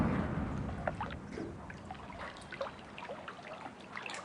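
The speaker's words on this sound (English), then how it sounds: "That's just the sound of the water hitting the platform." Water splashes and trickles against a platform in the puzzle game Riven, giving a continuous soft wash with small irregular droplet splashes and gurgles at moderate, fairly quiet volume, with no talking.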